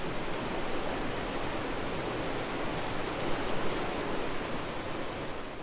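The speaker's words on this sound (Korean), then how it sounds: "눈 덮인 바위 사이로 계곡물이 흘러내린다" Steady, full rushing of a winter valley stream pouring between snow-covered rocks on Ulleungdo, a close, unbroken wash of water with slight surges, heard alone.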